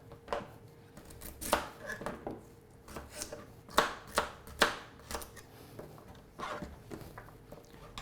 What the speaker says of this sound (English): If you cut them in half lengthways, then they're flat on the